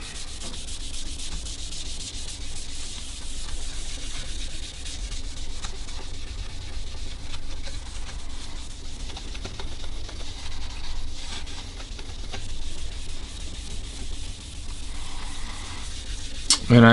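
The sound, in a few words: rubbing orange dye onto a quilted maple guitar top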